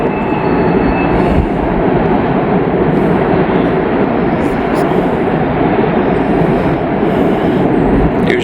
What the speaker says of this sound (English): locomotives sound like jet engines.